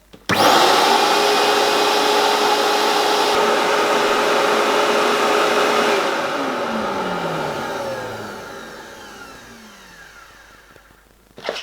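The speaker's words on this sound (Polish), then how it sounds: "Najpierw odpalamy odkurzacz 3M, czyli SCS." A 3M SCS service vacuum cleaner runs loud and steady with a high-pitched whine, then powers down over the last few seconds as its motor pitch slides lower and the noise fades out.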